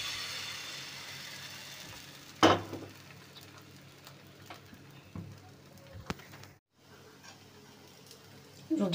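Patishapta batter sizzles softly in ghee in a frying pan, a quiet hiss that fades over several seconds. A sharp clatter of the pan breaks in partway through, and a few lighter knocks follow.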